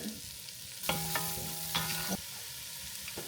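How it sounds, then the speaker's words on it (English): Shallots sautéing in a Dutch pan for a beef, sausage and potato stew, a steady close sizzle with a sustained metallic ringing tone midway and light stirring. "Next, you're gonna go ahead and saute the shallots in the Dutch pan."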